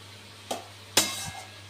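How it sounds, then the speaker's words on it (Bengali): Bottle gourd cooks in a covered pan for lau ghonto; two sharp metallic clanks come as the lid is handled, then a brief soft stir over a quiet steady hum, with no talking. "এবার ঢাকাটা খুলে একটু লাউটা সেদ্ধ হয়েছে কিনা দেখে নেব, দেখে নেড়ে দেব"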